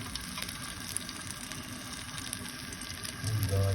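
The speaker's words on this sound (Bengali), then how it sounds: "চাল কুমড়ো ফ্রাই হচ্ছে, দেখতে পাচ্ছেন" Ash gourd fritters fry in hot oil with a continuous crackling sizzle and light popping, growing louder and fuller near the end.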